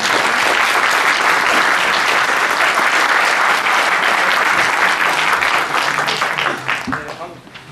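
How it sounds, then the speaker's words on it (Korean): A large seated audience at a creation-science lecture gives loud, sustained applause to welcome a professor, dense and steady for several seconds before tapering off at the end. "뜨거운 박수로 맞이하도록 하겠습니다"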